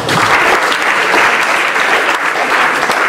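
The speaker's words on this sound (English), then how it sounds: "You guys give yourselves a round of applause." Students at a school applauding themselves: steady, lively clapping from a group in a room, loud and continuous for several seconds with little speech.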